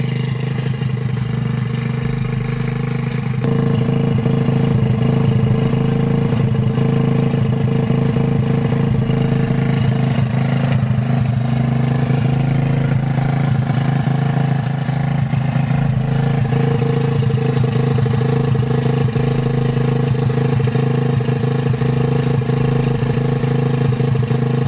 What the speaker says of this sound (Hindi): गाइस इसमें पंप में काफ़ी ताकत है, हमारा जो पंप है वो पानी को काफ़ी दूर तक फेंक देता है।